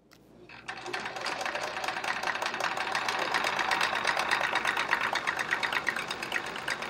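A home sewing machine runs steadily while free motion quilting a chevron quilt, its fast needle chatter and motor whir building up after a brief quiet start and continuing loud and close without a pause.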